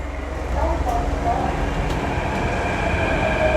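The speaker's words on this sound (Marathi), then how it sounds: "मेट्रो आली आणि मेट्रो निघाली" A Mumbai Metro train rumbles steadily at close range as it arrives and departs at Ghatkopar, a continuous low roar of wheels and motors with faint background voices.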